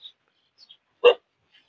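A single short dog bark outdoors in a rainy rural setting, sharp and fairly close, set against near silence with a few faint bird chirps.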